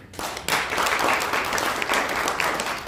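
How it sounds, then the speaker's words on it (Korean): An audience at a political group's launch event breaks into steady applause in agreement with a speaker. The clapping starts suddenly and carries on evenly for a few seconds, filling the room without speech. "동의하는 박수합니다"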